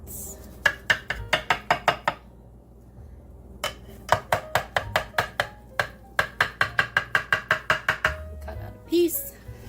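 A fish spatula cuts into a baked broccoli stuffing casserole topped with extra cheese, making quick runs of sharp, close tapping strikes against the baking dish in short rhythmic bursts separated by brief pauses.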